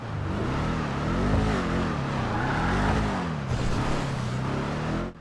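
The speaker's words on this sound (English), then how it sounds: "it actually sounds like a proper muscle car." A deep, rumbling V8-style muscle car engine, the Vapid Dominator ASP in GTA 5 Online, drones steadily, its pitch rising and falling as the throttle is worked, loud and close with no talk over it.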